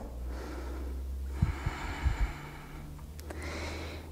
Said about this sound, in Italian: Faccio un bel respiro profondo.